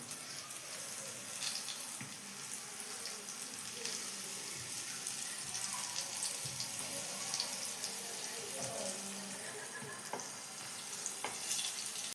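Raw banana slices frying in oil in a pan, producing a constant close sizzle with faint scrapes and clicks over several seconds; no speech.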